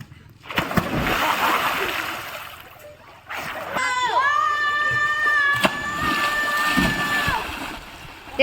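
People jump into a resort swimming pool, with splashes and watery churning under loud crowd chatter, laughter and shouting, plus a brief whistle-like tone in the middle.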